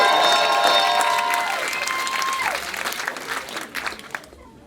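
Comedy club audience at a roast battle in Calgary applauding and cheering, a dense wash of clapping and crowd noise that gradually thins and fades out near the end.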